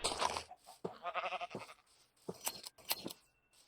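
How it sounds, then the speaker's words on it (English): Sheep bleating in modded Minecraft, several short wavering bleats in quick succession, close and clear with gaps of quiet between them. "Ooh, it's also, what, a gray sheep?"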